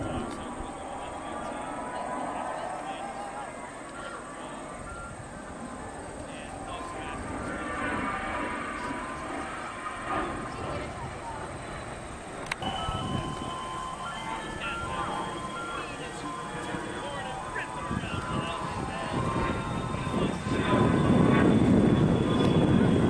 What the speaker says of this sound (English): the plane swooped in pretty low